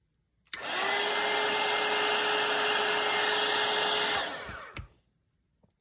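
A hair dryer runs steadily for about three and a half seconds to dry a watercolour painting, giving a loud, close, even whir that switches on abruptly and winds down at the end, with a couple of small clicks.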